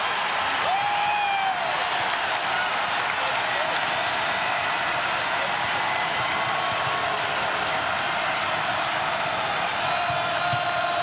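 A college basketball arena crowd, Kansas Jayhawks hosting Nevada, roars and applauds with the fans on their feet. It is a loud, sustained wall of cheering and clapping that never drops, with faint whistles and scattered shouts inside it.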